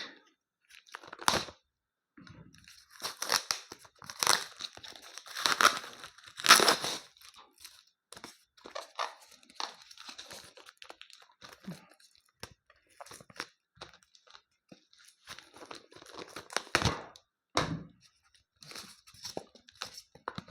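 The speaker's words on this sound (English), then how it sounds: "Unwrap this quickly" DJI Mic Mini packaging is torn and unwrapped in close, irregular bursts of ripping, crinkling and crunching, with quiet gaps between.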